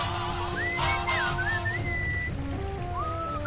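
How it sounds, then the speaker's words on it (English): Melodic whistling rises and slides in short phrases in the game Sam & Max Beyond Time and Space, fairly clear over a low rumbling, rain-like hiss and a steady hum. "What is that enchanting whistling sound?"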